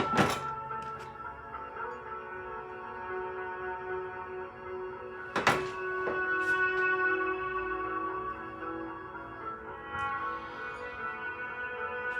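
A gold ring blank of just under 55 mm is rounded on a jeweller's triblet, giving two sharp metallic strikes that ring on with a long, resonant metallic tone and a hollow room echo.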